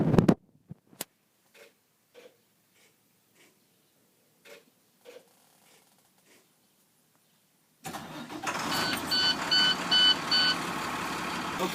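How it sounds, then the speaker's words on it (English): A bus engine cranks and catches after a few faint clicks and switch sounds, then settles into a steady, loud idle with a faint beeping tone over it. "I'm going to start the engine and make sure my air pressure is built up."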